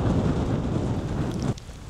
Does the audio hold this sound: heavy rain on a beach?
yes